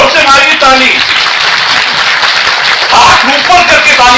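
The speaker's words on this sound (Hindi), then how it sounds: "हाथ ऊपर करके ताली मारिए" Audience clapping at an award ceremony for Teelu Rauteli and Anganwadi worker honours, a dense, loud and continuous patter of many hands, with a voice speaking over it throughout.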